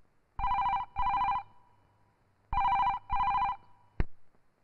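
A telephone rings for an incoming call with two pairs of loud, even electronic trills separated by a pause, then a sharp click as the handset is picked up.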